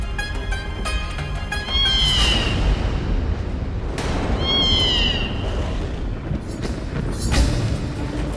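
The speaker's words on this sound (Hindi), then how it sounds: "काली बिल्ली" A black cat meows twice, loud and close, each call a rising then falling wail, set against a steady background hum with a sharp click between them.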